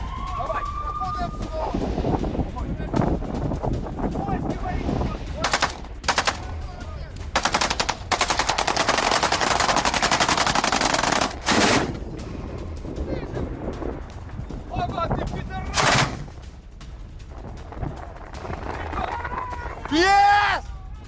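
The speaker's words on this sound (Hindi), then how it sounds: "एंटी एयरक्राफ्ट गन से हमला किया गया।" Rapid anti-aircraft gunfire shooting at a Russian cruise missile in Ukraine, heard as repeated loud bursts of dense crackling shots across the middle, with shouting voices and a whistling tone near the end.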